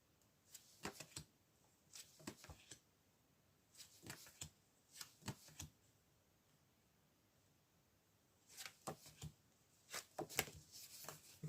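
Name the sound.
shuffling and drawing cards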